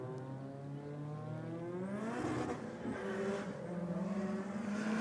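Two drag race cars, a 3.5 litre V6 rear-wheel-drive car against a 2 litre SR20 four-cylinder all-wheel-drive Corolla, run a roll race; steady loud engine drone with rising revs and gear changes, distant and passing, no talking.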